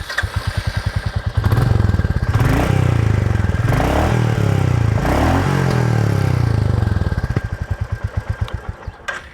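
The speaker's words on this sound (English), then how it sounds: "that signature thump is still present on the Royal Enfield" A Royal Enfield Classic 350 idles with a slow, even thump from the exhaust, then revs up into a loud roar and settles back to the rhythmic idle thumping.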